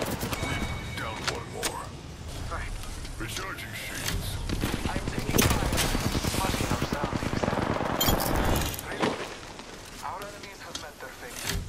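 Bursts of rapid automatic gunfire in the Apex Legends video game, dense and loud, mixed with other game effects while a player talks over the action.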